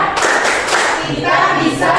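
Students in a classroom at a senior high school perform a rhythmic spirit clap, sharp group claps landing in a patterned beat, fairly loud and close, mixed with young voices chanting along.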